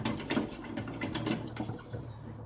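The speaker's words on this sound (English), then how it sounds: "wind the clamp in" The adjustable clamp on an Evolution Rage 2 saw is wound in, a close, continuous run of quick ratcheting clicks.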